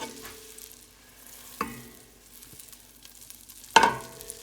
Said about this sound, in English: I hear the butter melting